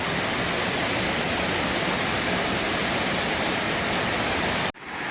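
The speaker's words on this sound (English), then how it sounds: "Looks like there's a second waterfall." A waterfall beside a hiking trail, a loud, steady rushing roar close by that cuts off abruptly near the end.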